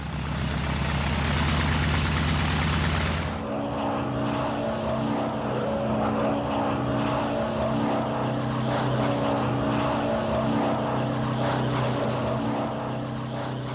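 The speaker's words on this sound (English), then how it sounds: "On that first flight, Delmar established that in spite of its ungainly appearance, the GB will do surprising things." A Gee Bee-style propeller airplane flies past on its first flight: a loud, broad engine-and-propeller roar for the first few seconds, then a steady droning tone with strong engine harmonics as the aircraft continues at a distance.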